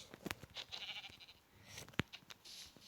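A sheep bleats in a Minecraft-like block-building video game, a couple of short, fairly faint bleats amid light game noise, no talking.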